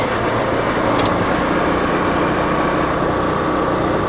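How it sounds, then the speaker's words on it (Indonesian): Steady engine drone of motorbikes going by on a busy village road beside harvest-ready rice fields, a continuous close rumble with no voices. "Motor udah di mana-mana sih."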